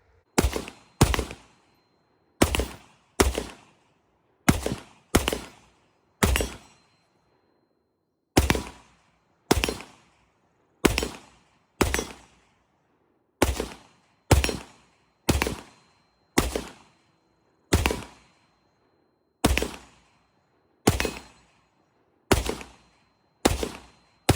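An AR-15 rifle with a 10.5-inch barrel fires 5.56 NATO rounds in a long string of sharp, loud, close single shots at a fairly steady pace, each crack followed by a short decay, with brief pauses between groups.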